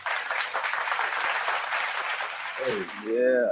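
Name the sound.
round of applause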